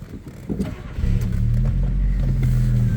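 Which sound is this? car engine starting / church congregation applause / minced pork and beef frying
car engine starting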